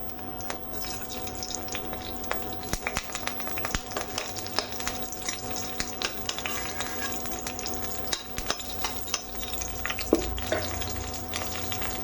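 Raisins frying in hot ghee in a pan, a soft continuous sizzle with scattered small crackles and pops, quiet and close, no talking.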